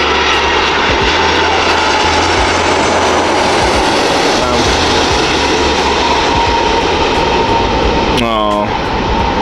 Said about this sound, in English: There's another plane as well getting ready over there to take off